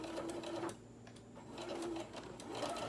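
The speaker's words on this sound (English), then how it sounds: "Start sewing." A sewing machine stitches fabric for a zippered pencil pouch in short close bursts of fast mechanical whirring, pausing briefly in between, with no talking.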